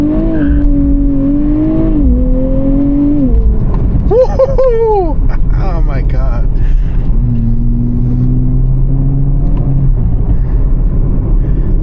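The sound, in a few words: sports car engine exhaust burbles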